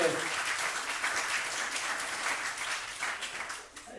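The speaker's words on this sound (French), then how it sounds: "On va les applaudir très fort" A conference audience in France applauds, a continuous wash of many hands clapping from a moderate distance at fairly low level, briefly thinning near the end.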